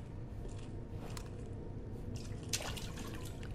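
Water dripping in the Resident Evil 2 remake, heard as soft, scattered drips over a steady, low ambient rumble throughout, with one slightly sharper drop near the end.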